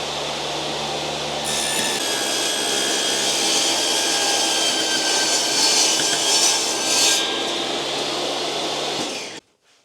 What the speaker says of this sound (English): I'm going to turn the vacuum on while I'm cutting this